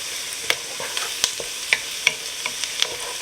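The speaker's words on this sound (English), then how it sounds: "now I'm going to add my garlic and just cook it for a little bit" Garlic sizzles with softened onions in a pan for cucuzza chowder, a steady close hiss punctuated by sharp spatula taps roughly every half second.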